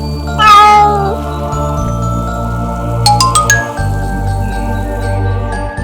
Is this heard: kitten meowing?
yes